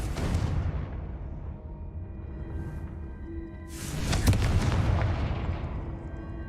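The Confringo explosive spell goes off in Hogwarts Legacy: a heavy booming blast that fades into a rumbling tail, then a second loud, close burst with a sharp crack, its rumble trailing off at the end.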